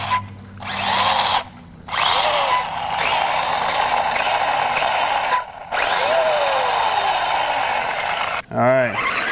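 A Team Magic E5HX RC car whines and grinds through its gears in loud bursts, with the motor revving up and cutting off several times, then a final rising whir.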